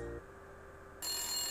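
A telephone rings in the Maniac Mansion Deluxe video game, a short electronic ring tone with a brief gap before the ringing resumes, clear and alone.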